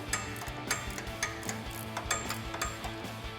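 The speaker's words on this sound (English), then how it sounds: "We're gonna take our 18mm ratcheting wrench, slide that onto our nut" An 18mm ratcheting wrench turns a nut while installing a front leveling kit on a Jeep Gladiator JT. It gives a quick, regular series of close, crisp ratchet clicks with no speech.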